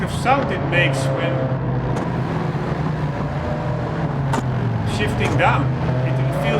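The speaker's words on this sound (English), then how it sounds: "I don't know what kind of sound it makes when" A race car in the Gran Turismo 7 racing game, the fastest car on the grid, downshifts with a steady engine drone and rising and falling pitch sweeps, with a faint voice underneath.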